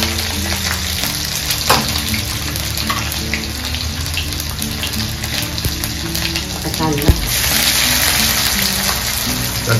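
Cumin seeds hit hot oil in a home kitchen pan already holding peanuts and green chilies, raising a loud, continuous close-up sizzle with crackling bursts and some stirring.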